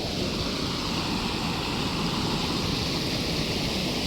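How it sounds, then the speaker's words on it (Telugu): A village canal overflowing its banks, water rushing steadily along in a constant broadband roar that holds at one level from start to end, close by, with no voices. "వాటర్ ఎలా ఉన్నాయి కాలువలు కావాలో పొంగి పొర్లుతున్నాయి"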